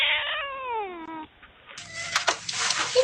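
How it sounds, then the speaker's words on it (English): A cat meows at a Ring doorbell camera: a long, drawn-out wailing meow, then a short pause and a burst of rougher, scratchy meowing, close to the mic with no talking. "bad cat right here"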